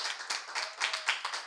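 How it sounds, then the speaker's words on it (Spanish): Applause from a group at a televised foundation event, a short burst of quick, close clapping with uneven hand claps. "un aplauso de parte de todos los que te rodeamos"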